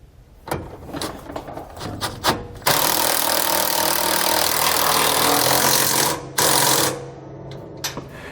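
A 9/16 socket and wrench tightening mounting hardware for SumoSprings helper springs on a 2019 Fleetwood Bounder motorhome: quick ratcheting clicks, then a long continuous mechanical whir lasting a few seconds, a brief gap, and more ratchet clicks, all close.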